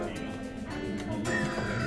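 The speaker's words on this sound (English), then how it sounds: "Oh, bird." Faint bird calls, tagged as crow-like caws, sit under constant loud crowd and room noise in a busy indoor science centre exhibit hall.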